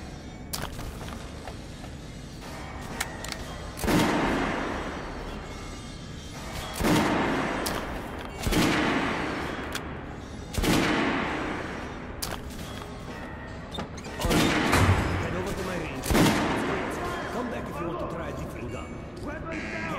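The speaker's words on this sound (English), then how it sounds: "Shooting position! Close! Fire!" Rifle volleys boom in a Metro Last Light Redux shooting range, with about six heavy, echoing blasts spaced a few seconds apart under a shouted voice giving commands.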